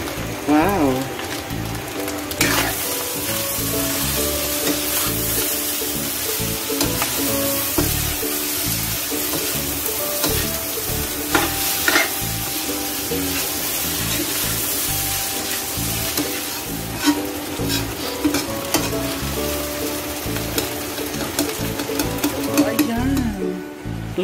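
Fried rice with kimchi being stir-fried in a pan, a constant loud sizzle broken by repeated scraping and clacking of the spatula, with occasional talk over it.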